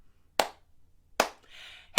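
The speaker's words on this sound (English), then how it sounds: "So we're going to start by clapping." Hands clapping in time during a live children's music session, three sharp, close claps evenly spaced with a brief soft rustle between the last two.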